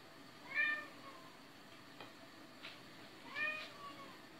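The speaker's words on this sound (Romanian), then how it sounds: "Pisicuța mea vrea afară. Plânge, miau." A cat wanting to go outside meows a few times, short plaintive cries separated by pauses, fairly quiet and close in a calm room.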